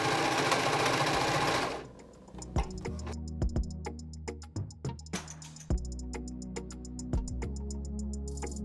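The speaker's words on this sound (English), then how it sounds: "sewing it like this, I've realized that the presser foot does have a hard time gliding over that." A sewing machine stitches mask fabric that is fed upside down to help the presser foot glide, running steadily and close up after a burst of broadband noise, with sharp clicks and short pauses between runs.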